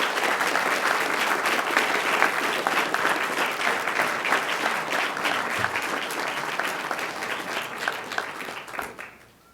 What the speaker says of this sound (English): let's give Coach Lowry a nice round of applause